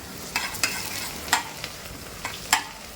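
Thin potato salli frying in hot oil gives a soft, steady sizzle with a few scattered crisp clicks and stirring scrapes, close and moderately quiet throughout.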